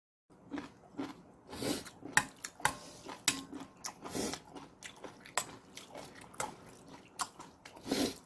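Someone eats soybean paste ramen seasoned with salted shrimp and anchovy sauce. Close, wet chewing, biting and slurping noises come in irregular bursts, with no talking.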